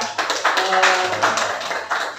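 A group at a school gathering gives a short burst of hand clapping, a cluster of quick, fairly close claps with people talking over it.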